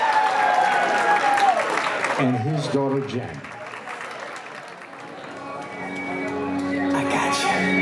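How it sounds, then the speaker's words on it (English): Wedding guests applaud, with a short burst of clapping rising under a voice, then fading as music with singing begins. "how about a nice round of applause"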